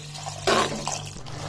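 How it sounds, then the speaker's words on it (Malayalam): Boiled and cooled water is poured into a pan of nutmeg pickle with vinegar, a short splashing gush that rises sharply and then fades to a soft trickle. "ആ വെള്ളം കൂടെ ഒഴിച്ച് ഒന്ന് വേവാനായിട്ട്"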